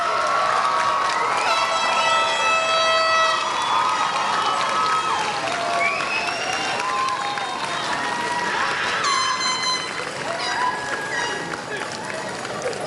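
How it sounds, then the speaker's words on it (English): A commencement crowd at the University of Hawaii Maui College spring ceremony rises to applaud, a loud, dense wash of clapping and cheering with whistles and shouts running steadily throughout. "So all rise and give them a big round of applause."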